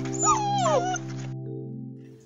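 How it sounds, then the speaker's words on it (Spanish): Puppies in a puppet theatre play cry through the night, a high wavering whimper and yelp over a steady electronic hum, then the hum alone continues. "Durante toda la noche, los perritos lloraron."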